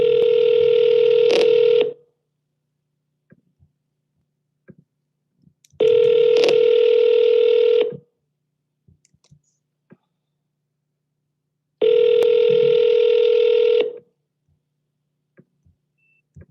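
A telephone call rings out in three long, loud tonal bursts of about two seconds each, separated by roughly four-second gaps with faint clicks between them.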